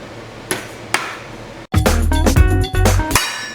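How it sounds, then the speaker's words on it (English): Two sharp metal knocks, then a burst of loud, ringing hammer blows clanging against a metal cover hiding a fan, close and reverberant. "I'm gonna need to knock this off with a hammer"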